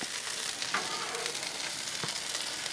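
Bread toasts on a Blackstone griddle just after being flipped, giving a steady, close, crackling sizzle throughout with a couple of faint spatula scrapes.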